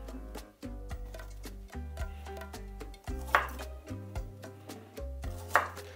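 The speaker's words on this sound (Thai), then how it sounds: "นี่นะครับกะหล่ำเราล้างเรียบร้อยแล้วเราก็แค่หั่นครึ่ง" A knife chops through a washed cabbage on a board, a series of crisp thuds and crunches in an uneven rhythm with two sharper cuts standing out, close and fairly quiet with no talk.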